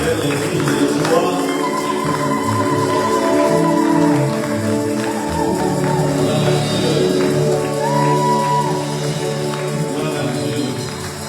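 A church congregation at a seminar erupts in sustained cheering, shouting and clapping, a dense crowd roar that fills the room and carries on loudly throughout.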